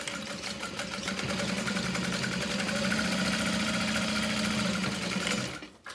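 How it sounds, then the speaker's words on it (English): A sewing machine top stitches a handbag, running at a steady, fast, continuous hum with a busy rattle close by for about six seconds before stopping abruptly. "I'm gonna fold this over and top stitch through that"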